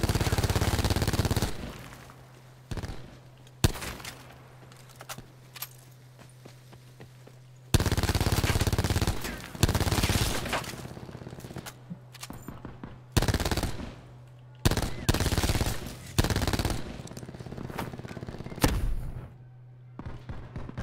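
Loud machine gun bursts in the video game Call of Duty: Black Ops 4 fire in several long volleys separated by brief pauses, sharp and close, with scattered single shots between.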